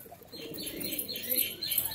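A group of pigeons for sale coos and burbles nearby, soft overlapping low calls mixed with faint higher chirps, brief and steady with no voices.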